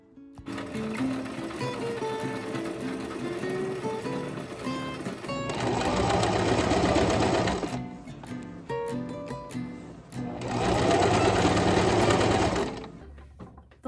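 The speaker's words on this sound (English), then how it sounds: "all I'm doing is just sewing the lacy part to the edge" Sewing machine attaching lace edging to repurposed old linen for doily bunting, running in two sustained bursts of steady, close-up stitching with quieter handling between them.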